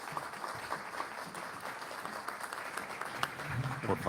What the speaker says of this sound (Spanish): les pido un aplauso para el moderador y nuestros panelistas el día de hoy.